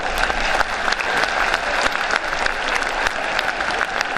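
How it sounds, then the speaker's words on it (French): Loud, sustained applause from a large audience at a gathering, honoring about 200 young volunteers, a dense continuous clapping that holds steady throughout. "Remercier les 200 bénévoles et j'aimerais que vous les applaudissiez très fort."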